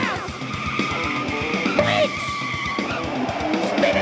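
A car's tires squeal and skid loudly over an engine roar, with screeching tones sliding up and down across a few seconds.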